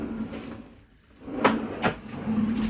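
Kitchen drawers in an IKEA-style kitchen slide open and shut close by, with two sharp knocks of closing in the middle over a steady low hum.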